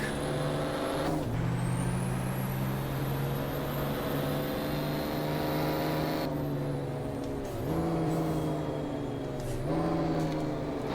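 Truck engine in the Formula Truck 2013 racing game, droning loudly throughout, dropping in pitch at gear shifts and climbing again, with sharp air-brake hisses cutting in across the run.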